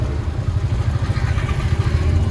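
Busy Marrakech street traffic with tuk-tuks, cars and motorcycles: a steady, loud low engine rumble with puttering motorbike pulses and general clatter, no voices.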